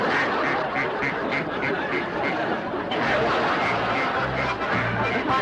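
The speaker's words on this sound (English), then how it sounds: "My pet duck." A pet duck quacks repeatedly in short nasal bursts over steady background noise, with lower honking tones toward the end.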